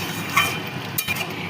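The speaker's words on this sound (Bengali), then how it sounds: "এবার চিকেনটাকে ভালো করে কষে নেব যতক্ষণ না তেল বেরোচ্ছে।" Chicken is sautéed and stirred in oil in a pan for a thin chicken and potato curry, giving a steady close sizzle with a few soft scraping and clinking touches from the spoon.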